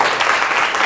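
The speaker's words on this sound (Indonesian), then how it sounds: "Tepuk tangan sekali lagi." A classroom of students applauds in a short, dense burst of clapping, loud and close, with no talk over it.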